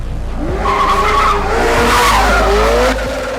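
A Ferrari 348 skids hard after running a stop sign, its tires squealing loudly in rising and falling sweeps over a steady engine roar before the crash, with no talk.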